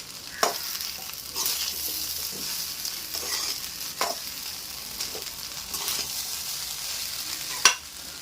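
Seasoned rice being stirred in a hot pan for a quick tempered-rice lunch, with a steady soft sizzle broken by repeated scraping strokes of a spoon against the pan, close and clear.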